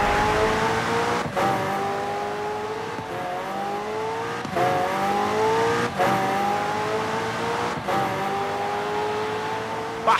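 McLaren Senna in Forza Horizon 5 driving hard, its engine screaming through repeated upshifts, each gear climbing in pitch before a brief cut, loud and continuous.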